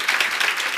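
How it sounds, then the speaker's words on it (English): Brief burst of warm applause from a startup networking audience, dense clapping lasting under a second. "How does a warm applaud sound?"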